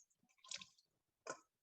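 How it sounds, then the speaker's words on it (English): Blanched Swiss chard leaves, just out of an ice-water bath, are squeezed by hand, giving two brief wet squishes with water dripping and splashing, close and fairly quiet. "Squeeze the leafy greens of whatever water is there as much as you possibly can."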